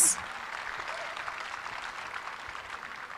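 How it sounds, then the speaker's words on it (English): An audience at a stage show of dance performances in Dubai gives steady, moderately distant applause, a continuous dense clapping that carries on after a brief high tone at the very start. "let's give all three of them a big round of applause"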